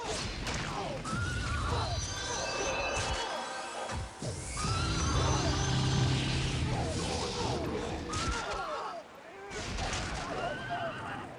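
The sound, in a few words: horse neighing in a video game (Dark Age of Camelot)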